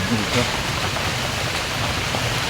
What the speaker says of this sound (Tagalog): Ayan na, ulan na guys.